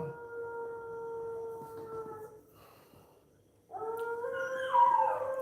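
Several dogs howl together in long, wavering tones, fading out briefly and then rising again louder and higher toward the end.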